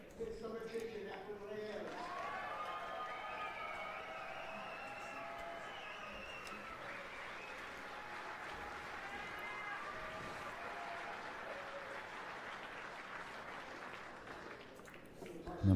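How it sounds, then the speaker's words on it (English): A crowd applauds at a pool billiards event as a player is introduced: steady, dense clapping sustained for many seconds at moderate distance, with commentators talking over it. "they got a huge round of applause"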